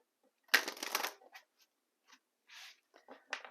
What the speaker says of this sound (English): let's do some initial shuffling